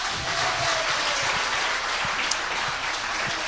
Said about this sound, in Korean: 자, 박수로 모시겠습니다.